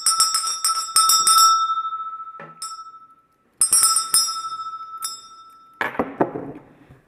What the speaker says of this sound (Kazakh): Сыңғырла соңғы қоңырау